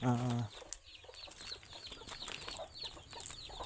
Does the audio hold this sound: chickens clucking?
yes